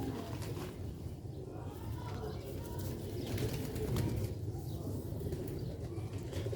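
Black-faced Sialkoti pigeons coo softly in low, rolling murmurs close by, with faint rustling around them.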